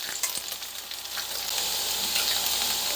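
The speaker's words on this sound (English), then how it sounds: "I'm going to take my browned ground beef, just pop it back into the same saute pan, and add in my onion" Browned ground beef and onion sizzling in a saute pan over medium-high heat, a steady close frying hiss with faint stirring scrapes and no talking.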